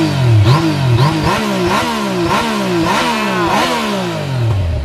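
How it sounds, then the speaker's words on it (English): A 2019 Yamaha Niken GT's triple-cylinder engine on its stock exhaust revs up and falls back again and again, a loud close series of rising and dropping blips with a raspy, gruff tone. "Oh, it has that classic triple sound."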